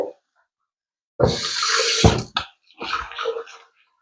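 Water splashes and pours into a pan of ground masala for crab curry in a couple of short bursts, close and fairly loud, with brief silence around them.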